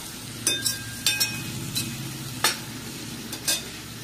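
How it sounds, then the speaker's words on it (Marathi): Chopped ridge gourd fries in a pan with a steady sizzle, and a spatula scrapes and stirs it in several sharp bursts, close by and without talk. "आपले घोसाळे चिरलेले टाकून देऊ याच्यामध्ये। मस्त फ्राय करून घ्यायचं, असं चांगलं हलवून घ्यायचं याला।"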